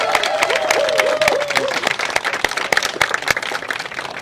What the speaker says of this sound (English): can we all please give the governor a huge round of applause for his leadership